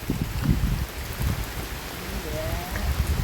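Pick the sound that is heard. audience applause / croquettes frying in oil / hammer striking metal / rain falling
rain falling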